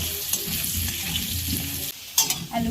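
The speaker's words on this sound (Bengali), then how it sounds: "আলুগুলো লাল লাল করে ভেজে নেব" Potato pieces fry in oil with a loud, continuous close sizzle. It dips briefly before a burst of stirring clatter.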